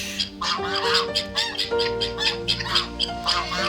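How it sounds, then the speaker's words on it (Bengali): A goose calls on a desert farm with goats, ducks and chickens nearby, a run of loud honking squawks repeating in quick, uneven bursts close by for several seconds. "আর এটা হলো রাজহাঁস।"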